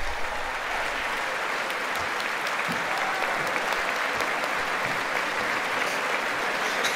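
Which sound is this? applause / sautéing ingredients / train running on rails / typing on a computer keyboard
applause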